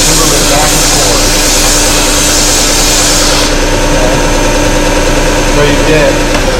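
A belt and disc sander runs with a loud, steady motor drone while wood is sanded, the pitch barely shifting across the whole stretch.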